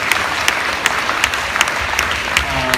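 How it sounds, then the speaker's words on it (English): An audience claps steadily at an indoor church gathering, a modest round of individual claps with sharp hand strikes standing out, no talking over it. "You can clap if you want, Tess."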